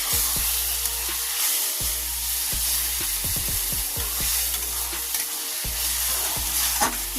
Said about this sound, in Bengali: অল্প একটু জল দিলাম, দিয়ে মশলাটা ভালো করে কষে নেব।